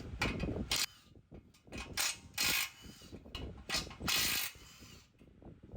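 A ratchet works loose the 14mm bolts holding the bumper bar on a Toyota Tacoma, bursts of fast clicking alternating with pauses and clanks, close up with no talking.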